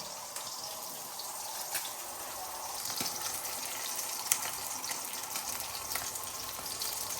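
Fish fry in oil on a gas stove in a home kitchen, giving a soft, steady sizzle with faint crackles throughout, fairly quiet and without talk.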